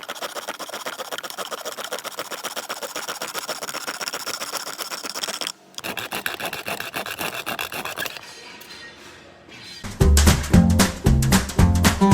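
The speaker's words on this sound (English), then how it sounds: "I will show you a demonstration of me cutting this piece with the handheld hacksaw in the next portion of the video." A handheld hacksaw cuts through a piece with fast, even, close-up rasping strokes. The sawing pauses briefly midway and resumes, then ends in a burst of louder knocks and thuds.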